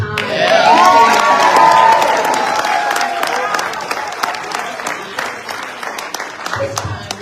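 An audience at a Henderson County Democrats candidates forum for NC11 breaks into loud applause and cheering. The clapping thins to scattered claps as it fades, and a voice is heard over the crowd.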